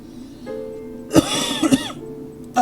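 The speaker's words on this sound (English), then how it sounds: "Sorry for my cough." Two or three close, sharp coughs burst out in quick succession from a single person, with brief faint voice sounds before and a short throat noise at the end.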